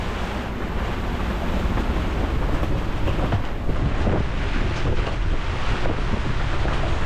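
Tropical storm wind and heavy rain batter a boat at anchor off Carriacou, a steady loud roar of gusting wind and rain with no letup, filling the whole clip.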